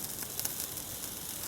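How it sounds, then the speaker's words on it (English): A pork burger sizzles on a grill over an open flame, giving a steady, close, dense hiss with faint crackles and no talking. "nice sizzle."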